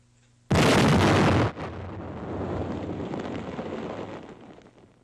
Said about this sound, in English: The pillbox is completely destroyed by the explosion